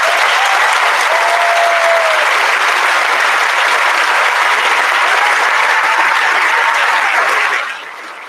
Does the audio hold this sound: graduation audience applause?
yes